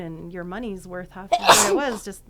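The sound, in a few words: sneeze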